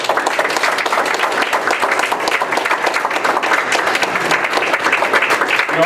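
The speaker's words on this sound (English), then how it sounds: "So how about a round of applause for her?" Applause from the audience at a school board special session, a dense, steady wash of many hands clapping that fills the room for about six seconds without letting up.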